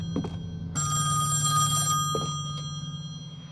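A telephone rings in the horror video game Song of Horror: one loud, sustained electronic bell ring that fades away, with no voice over it.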